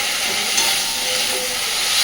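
Tomatoes and onions frying in oil in a pan, a loud, constant sizzling hiss that holds steady throughout, close up and without voices.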